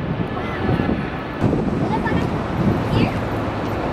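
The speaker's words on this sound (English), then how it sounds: "Super windy." Strong wind buffets the microphone in Brisbane city, a steady rushing roar with gusty surges, while people talk over it.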